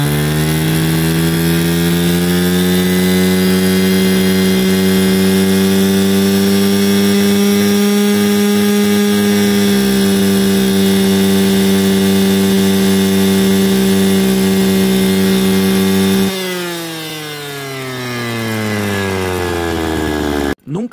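Stihl FS 160 brushcutter engine held at high rpm, a loud steady two-stroke whine with strong harmonics for about sixteen seconds before the revs drop off and it idles down alone.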